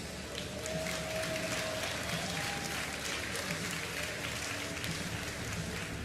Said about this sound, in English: Got a pretty big crowd over here, Todd, for StarCraft 2.